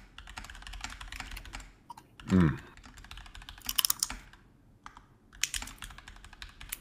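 Rapid typing on a computer keyboard in bursts of clattering keystrokes, close and fairly loud, with a brief stretch of speech in between.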